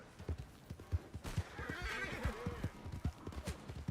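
A horse in the video game Red Dead Redemption gives a loud whinny in the middle, surrounded by close clip-clop hoofbeats and snorting from start to finish.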